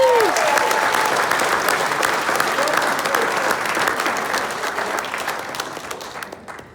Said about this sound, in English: so let's get a round of applause going for those guys.